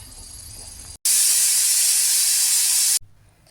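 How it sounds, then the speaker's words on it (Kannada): Pressure cooker whistle releasing steam while cooking mushroom biryani, one loud sustained hissing blast of about two seconds, set between quieter kitchen background. "ಈಗ ಒಂದು ವಿಷಲ್ ಆಗಿದೆ ಆವೆ ಎಲ್ಲ ಹೋಗಿದೆ"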